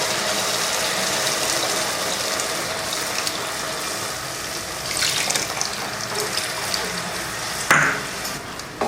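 Dissolved tamarind water poured into a cooked-down tomato curry for vatha kulambu, a steady close liquid rush and trickle with a brief clink near the end, no talk.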